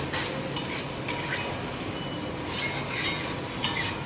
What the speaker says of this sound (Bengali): ভালো করে আমি নাড়িয়ে নিচ্ছি।